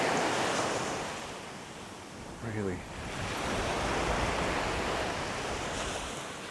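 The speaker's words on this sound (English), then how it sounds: "lovely sound of the waves" Ocean waves wash onto a beach at Puerto Portals in Mallorca, giving a steady, broad surf roar with wind buffeting the microphone, and a single brief spoken word partway through.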